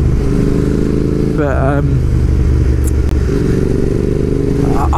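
A Royal Enfield Interceptor 650 motorcycle engine runs with a loud, steady low rumble, a brief rising rev in the middle, while someone talks over it.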